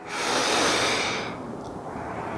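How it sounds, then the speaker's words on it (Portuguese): A single long, deep breath drawn in during a calm guided-breathing exercise, a loud airy inhale that swells over about a second and a half, then fades into quiet. "Toma uma respiração bem profunda, vai."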